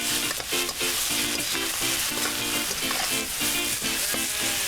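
Leeks and lamb innards frying in a pan, a loud, dense sizzle with crackling spatter and rhythmic stirring scrapes running continuously up close.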